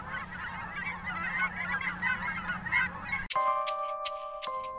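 A flock of geese honks continuously at a distance for a few seconds, then a cut to a different, quieter scene.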